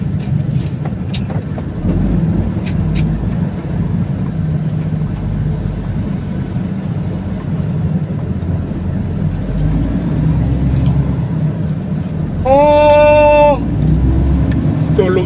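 Road traffic in the town of Rosario, Batangas, heard from inside a moving vehicle: a steady low engine and road rumble throughout, with a brief louder horn-like tone near the end.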